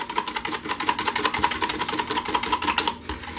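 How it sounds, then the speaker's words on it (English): A whisk beats colorant into cold process soap batter in a container, making a fast, steady rhythmic whirring and tapping close by, running continuously before stopping near the end. "Wow, this whisk really gets it in there."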